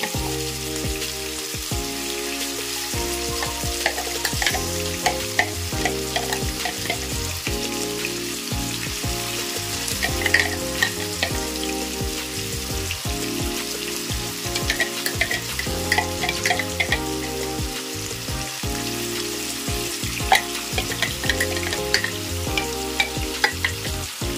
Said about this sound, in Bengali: পেঁয়াজ রসুন টমেটো যে একটা ফাইন চপ করে রেখেছি সেগুলো আস্তে আস্তে ফ্রাই প্যানের মধ্যে